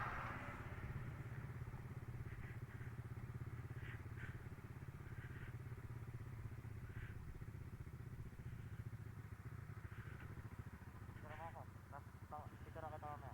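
A motorcycle engine runs in the mountain village of Buscalan. It makes a steady, low, continuous drone throughout, with faint clattering and bits of voices over it.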